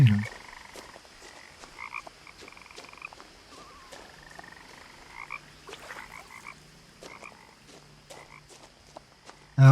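A frog in What Remains of Edith Finch gives soft, spaced croaks and trilled ribbits amid quiet ambient game sound, with brief clicks and low tones between calls.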